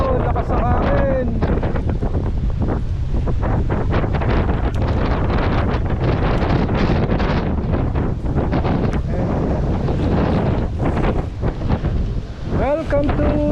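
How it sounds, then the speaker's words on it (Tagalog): Strong, steady wind on Boracay Island in the Philippines roars and buffets the microphone throughout, with faint voices barely audible beneath the gusting rumble. "Lakas ng hangin."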